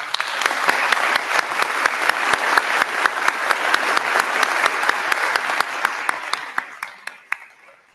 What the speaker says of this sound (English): we owe him a round of thanks and applause